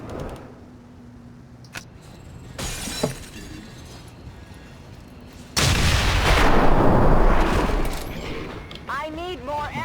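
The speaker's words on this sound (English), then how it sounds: "let's detonate the claymore" Claymore mine detonating in XCOM 2, a sudden loud broadband blast that lingers with rumbling debris for a few seconds, following quieter game ambience with occasional thuds and a voice.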